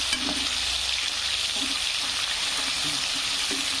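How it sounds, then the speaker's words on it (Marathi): Tomatoes are added to browned onions in a pan while cooking methi bhaji. The fry gives a steady, moderately loud sizzle, broken by a few soft stirring scrapes, with no talk. "कांदा लालसर झाल्यानंतर आपल्याला टाकून घ्यायचं आहे टमाटर."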